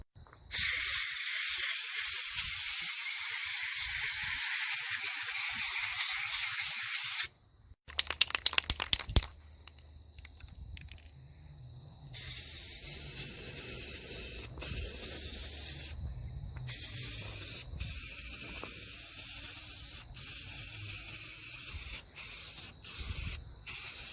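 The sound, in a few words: spray painting a 2000 Lincoln Town Car decklid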